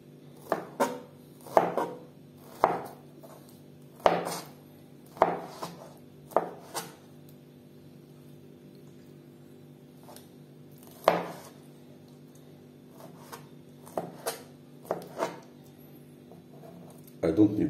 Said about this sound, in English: First, I would like to cut the turkey liver.